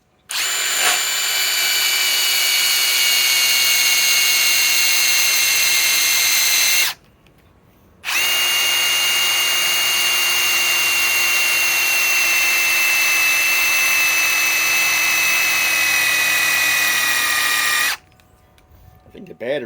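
A Ryobi PSBIW25 compact impact wrench on an 8 amp 21700-cell battery whines loudly in two long continuous runs split by a brief pause, then stops.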